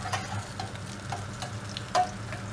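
Mashed potatoes being stirred together with cream and butter in a pot, soft wet squelching and scraping strokes at close range with one sharper clack near the end, no talking.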